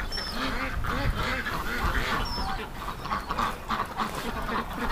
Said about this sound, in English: Oh, the ducks are all going to the other side.